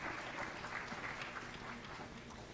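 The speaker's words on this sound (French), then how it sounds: "Veuillez applaudir chaleureusement pour Madame Angela Guerra." Audience applauding warmly for Madame Angela Guerra, a deputy of Portugal's National Assembly, at an international parliamentary conference; steady, fairly faint clapping from a crowd, continuous throughout with no pause.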